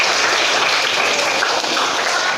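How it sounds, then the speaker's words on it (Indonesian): Students in a classroom giving a round of applause, a brief, steady, fairly loud wash of many hands clapping with no gaps. "Oke, tepuk tangan buat kalian semua"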